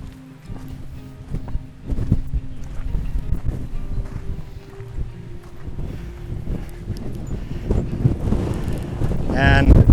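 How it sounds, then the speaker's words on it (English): Strong wind gusts batter the microphone in loud, rumbling bursts that swell toward the end, with faint intermittent sounds underneath, on a hiking trail in Arikok National Park, Aruba. "over here extremely windy"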